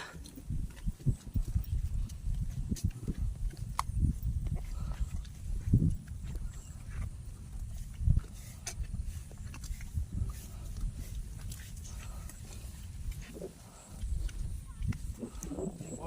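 Cattle hooves clopping along a road as the cows walk past, with steady low rumbling and scattered shuffling throughout.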